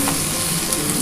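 Catla fish oil fries and is stirred in a pan, giving a loud, close, steady sizzle with faint stirring scrapes and no talk.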